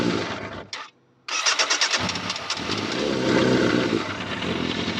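A motorbike or mower engine cold-starting with the choke on: a short electric cranking burst, a brief pause, then the engine catches and runs on at a loud, steady, slightly uneven idle.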